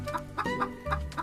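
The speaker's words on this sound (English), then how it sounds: "Come on, my pretty chicken." Chicken clucking in a short series of four or five close, fairly loud clucks at an even rhythm, alone with no talk, in a Jack and the Beanstalk children's story setting.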